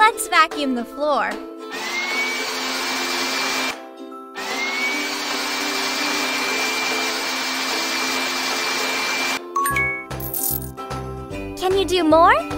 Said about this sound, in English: Let's vacuum the floor.